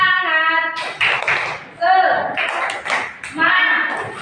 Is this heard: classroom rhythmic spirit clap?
yes